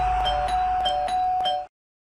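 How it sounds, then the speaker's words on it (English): A house doorbell rung over and over by someone at the door, its electronic chime repeating in quick, even pulses over a steady hum, then cutting off abruptly. "the man starts ringing the doorbell repeatedly"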